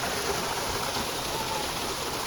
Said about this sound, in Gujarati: ગાયના મુખમાંથી પાણી નીકળે છે